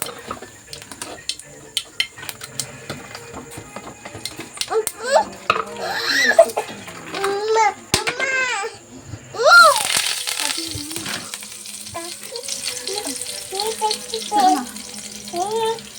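Mustard seeds and curry leaves hit hot oil in a pan with a sudden loud crackling sizzle that keeps spitting and popping. A person talks over the cooking before and during it.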